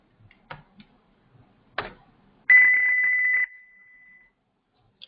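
A single steady electronic beep at 2000 Hz sounds for about a second after a few soft clicks, then cuts off into near silence, from a Python program on a computer.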